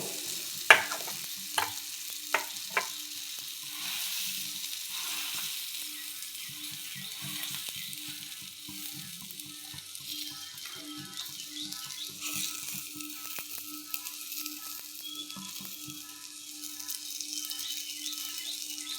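Bread spread with butter toasting in a hot pan, a soft steady sizzle running throughout with a few sharp clinks and scrapes near the start and light stirring noises under it, no voices.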